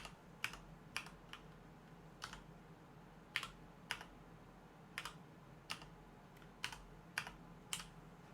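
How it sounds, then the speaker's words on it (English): Typing on a computer keyboard, heard as sparse, sharp key clicks in small irregular clusters over a low steady hum, faint and close, with no talk. "Oh, I did all that typing."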